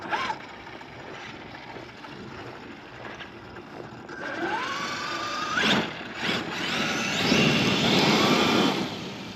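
A Traxxas Xmaxx RC truck fitted with a 1260kv Castle motor and Hobbywing Max6 ESC is run at full throttle, its electric whine sweeping sharply upward in pitch over rolling tire and drivetrain noise.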